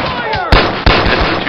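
Loud, close gunshots in the VR game BoneLab: two sharp blasts in quick succession over a background of speech and game ambience.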